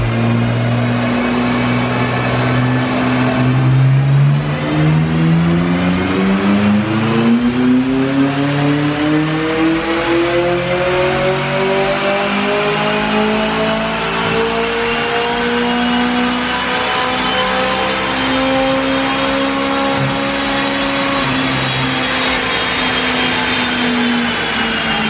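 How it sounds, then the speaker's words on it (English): A McLaren 600LT on a dyno pull, its engine loud and close, revving in one long sustained run with the pitch climbing steadily over about twenty-five seconds. "the 600LT is all set up to do some dyno pulls"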